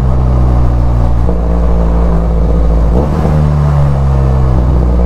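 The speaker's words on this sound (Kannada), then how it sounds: "ಸೊ ಇವಾಗ ನಾನು ಡೌನ್ ಶಿಫ್ಟ್ ಮಾಡ್ಬೇಕು ಅಂದ್ಕೊಳ್ಳಿ ವಿತೌಟ್ ಬ್ರೇಕಿಂಗು." A car engine revs up and drops back as the driver downshifts without braking to use engine braking, a loud, steady mid-range drone with pitch changes near the middle, close by and with no talk.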